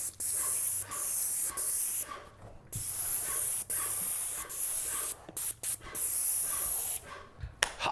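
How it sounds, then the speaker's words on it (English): Repeated bursts of loud, hissing spray from a paint sprayer coating kitchen trim, each lasting about half a second to a second, separated by short pauses, close by. "Gonna spray."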